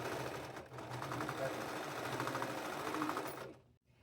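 A serger runs steadily, overlocking the fabric edges of a blouse made from a vintage tablecloth, set on a small TV tray. The motor hum carries for about three and a half seconds, then stops abruptly.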